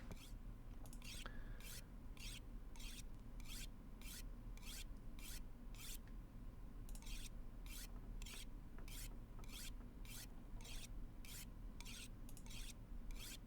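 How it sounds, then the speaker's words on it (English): A knife blade being sharpened on a whetstone in The Long Dark, about twenty regular rasping strokes in a steady rhythm, faint and close over a low ambient hum. "Let's go ahead and sharpen this blade for a while, because that blade was getting low in condition."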